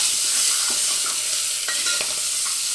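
Urad dal frying in oil with turmeric, an even, steady sizzle. Light clicks and scrapes of stirring cut in now and then, with no voices.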